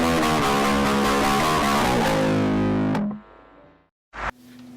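Precision bass played through an Animato clone distortion pedal set to middle, a loud sustained fuzzy chord ringing for about three seconds and decaying, then a short sharp distorted note after a brief silence.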